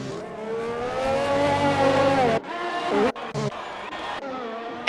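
Race car engine in a racing video game during a season finale at Austria, droning loud and steady with a rising-and-falling whine for about two seconds, then cutting off abruptly before shorter revving bursts as the car comes into the pits.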